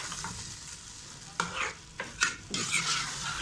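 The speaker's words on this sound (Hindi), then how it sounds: "थोड़ा सा भूनना है। फिर उसके बाद ये अदरक लहसुन की पेस्ट डाल दूँगी। फिर थोड़ा सा इसको फ्लिप करना है" Ginger garlic paste fries for a turnip and meat curry, with a soft background sizzle broken by a few quick scraping stirs of a spoon in the pan.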